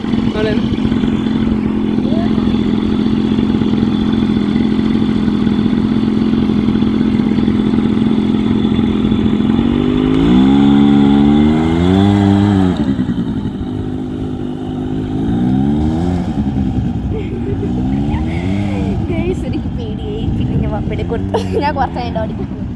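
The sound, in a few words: quad bike engine revving in the desert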